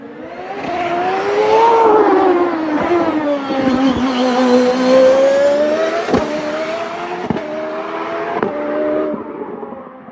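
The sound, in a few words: V8 race car engine screaming uphill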